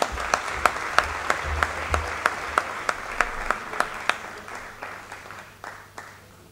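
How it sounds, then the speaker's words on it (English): Small audience at a talk on family businesses applauding a named guest, with sharp, regularly spaced claps standing out above softer scattered clapping that gradually fades. "Could we have a round of applause for Bharat Bhai,"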